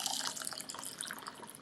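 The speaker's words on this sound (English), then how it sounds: "take your rice and to add boiling hot water to" Boiling hot water poured onto white rice makes a steady splashing trickle with small bright drips. It is soft and close, fills the whole moment, and has no talking over it.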